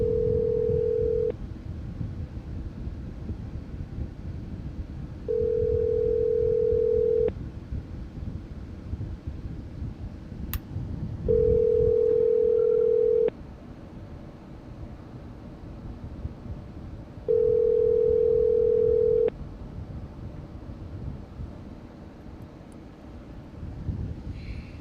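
Telephone tone on a talk-show line sounds in four steady beeps of about two seconds each, separated by longer gaps, faint against a low rumbling background hiss.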